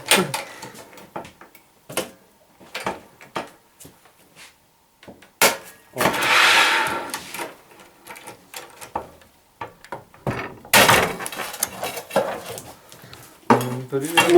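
A manual tile cutter trims 5 mm off a ceramic tile: scattered metallic clicks and clatters, then rasping scoring strokes and sharp snaps, with brief quiet gaps between them.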